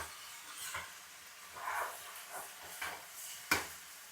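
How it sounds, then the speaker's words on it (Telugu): Chicken pieces frying in oil for a Telugu curry, a faint, steady sizzle and hiss with occasional stirring clatters and one sharper knock near the end, no voices. "చికెన్ బాగా వేగాలి."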